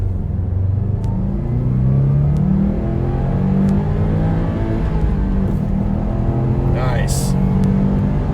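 Dodge Challenger Scat Pack and Subaru WRX STI in a second-gear roll race, engines droning and rising steadily as they accelerate, loud and continuous, with a brief higher whine near the end and voices speaking over it.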